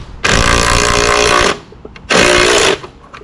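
A power tool with a 13 mm socket drives screws while mounting a retracting garden hose reel, giving two loud, steady whirring bursts of about a second each with a short quiet gap between them.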